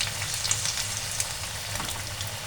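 Food frying in hot oil on a stove turned down to a simmer, a steady close sizzle with fine crackles and light pops throughout, no voices.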